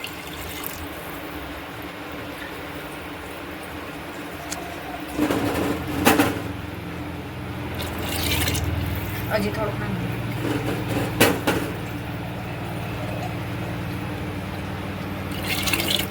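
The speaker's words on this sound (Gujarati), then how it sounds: "હવે આમાં પાણી નાખી દેવાનું છે અને પાણી નાખીને આપણે કુકર બંધ કરી દેવાનું છે" Water poured into a pressure cooker holding panchratna dal for a Gujarati recipe, splashing in bursts after a quiet start, with someone speaking briefly over the pouring.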